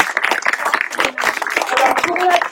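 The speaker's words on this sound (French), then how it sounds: "Vous pouvez l'applaudir, il est très très beau." An audience at the inauguration of an interpretive trail in Saint-Gravé applauds in scattered, uneven bursts of nearby clapping. Voices talk over the clapping, and a crowd murmur rises toward the end.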